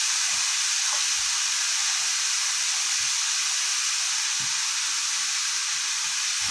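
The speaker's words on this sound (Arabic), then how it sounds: "ندي البصله كده تشويحه محترمه" Onion sautéing in ghee (samna) in a pan, a steady bright sizzle and hiss running unbroken, close and loud, with faint stirring taps underneath and no talk.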